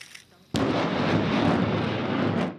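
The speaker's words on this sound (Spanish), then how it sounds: "Tras la primera prueba de disparo de este lanzacohetes estadounidense en mayo" A US-made rocket launcher test-fires, bursting in abruptly as a loud, broad roaring blast that holds for about two seconds before cutting off.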